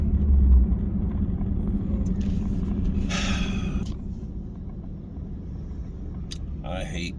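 Heavy road traffic heard from inside a moving car makes a steady low rumble, with a brief hissing pass of a nearby vehicle partway through and a few short higher noises near the end.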